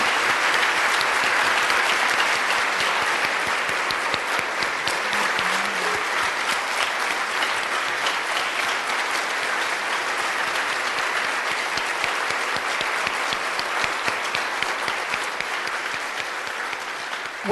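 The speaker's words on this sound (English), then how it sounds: "Let's give them another round of applause." An audience at the 2018 Louisiana Young Heroes awards ceremony claps steadily, a sustained round of applause that holds even and full for the whole stretch, with faint voices mixed in.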